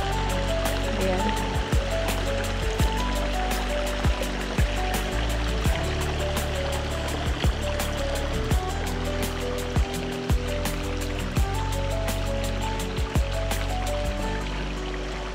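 A mountain stream flows at the Mt. Makiling mud spring, giving a steady, full rush of water close by, with small knocks and splashes scattered through the constant flow.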